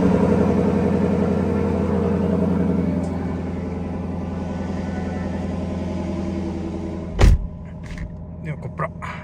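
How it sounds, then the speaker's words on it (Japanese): A Lexus LC500 convertible's engine runs at a steady, deep idle, a continuous low rumble that eases slightly after a few seconds, followed by a sharp knock and a few small clicks near the end. "このままエンジンかけてみましょうか。"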